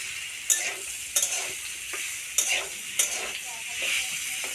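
Food frying and being stirred in a pan for a village-style dish, with a steady sizzle broken by several sharp scraping stirs close by. Nobody speaks.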